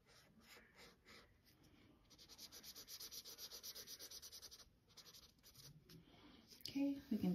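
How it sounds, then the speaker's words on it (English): Pencil or marker rubbing and scratching across paper while bushes and a tree are drawn, a steady soft scribbling texture with brief pauses, with a voice speaking over it near the end. "You can draw some bushes in here. We can draw a tree."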